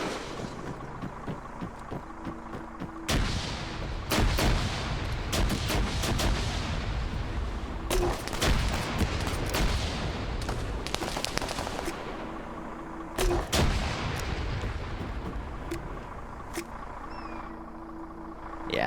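Gunfire at static targets in the video game Arma 3, loud bursts of rapid shots and cracking reports in clustered volleys with brief pauses, under a steady low engine-like hum.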